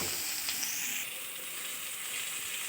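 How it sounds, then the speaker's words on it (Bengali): Ground cumin and chili paste, loosened with hot water, goes into a pan of pointed gourd frying in oil, giving a faint, steady sizzling hiss with a brief splash near the start. "এবার মশলা দেওয়া হবে, বাটা মশলা"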